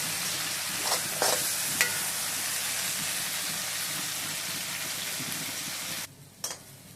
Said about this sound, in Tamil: இப்படி வறுத்துக்கணும்.